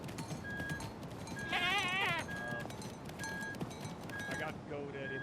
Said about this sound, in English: stupid fucking goat